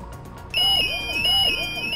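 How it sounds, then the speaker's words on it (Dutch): A shop burglar alarm sounds during a break-in at a jewellery store, starting abruptly after a quiet moment with a loud, steady electronic tone and a repeating warbling siren sweep that continues without pause. "Als het alarm afgaat,"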